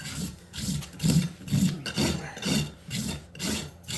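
A farrier's rasp works a bevel onto a horse's hoof pad in even back-and-forth strokes, about two per second, each a coarse, close scraping rub with brief pauses between.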